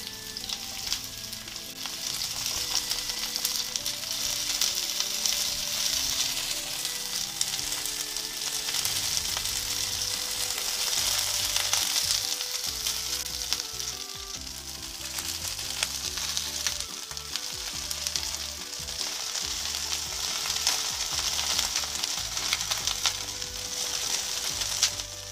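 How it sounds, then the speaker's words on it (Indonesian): Eggplant pieces frying in hot oil while being stirred, a steady bright sizzle with scraping and stirring clatter underneath, continuous and close for the whole stretch. "Nah, setelah minyak panas, lalu goreng terong ya. Diaduk-aduk begini ya, digoreng hingga lembek."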